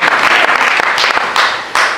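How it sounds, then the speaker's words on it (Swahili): A church congregation bursts into loud, sustained applause during a Sunday service, dense clapping filling the space with a few surges and brief dips. "Makofi yako yaongezeke tena kwa Bwana Yesu"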